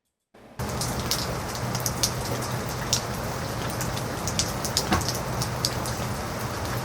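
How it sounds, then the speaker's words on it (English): Designed rain sound effects for a game environment, dense steady rainfall pattering on metal, tree leaves and ground, loud and continuous with scattered sharper drops, starting after a brief silence. "And then we have the rain hitting everything in the environment."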